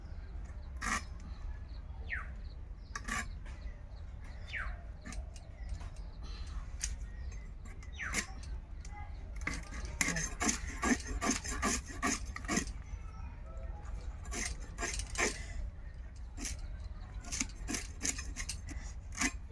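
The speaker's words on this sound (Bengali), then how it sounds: "তো বন্ধুরা কই মাছটা কুটে নেব।" A climbing perch (koi fish) from a home pond being scaled and cut, heard as close, repeated raspy scraping strokes, sparse at first and then faster and denser, over a low steady background hum.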